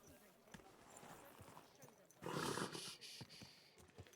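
Horse hooves clip-clop in the video game Kingdom Come: Deliverance 2, soft rhythmic steps close by with a louder burst of movement midway, while someone speaks over them.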